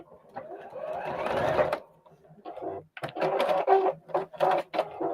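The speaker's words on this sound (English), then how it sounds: "And this we're going to sew to the center top." A sewing machine stitches fabric for a penguin-shaped pot holder, running in close, steady bursts of rapid whirring with brief pauses between runs.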